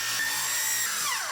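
A power tool cuts with a steady high-pitched whine while lifting and leveling a structure. The pitch drops as the cut ends.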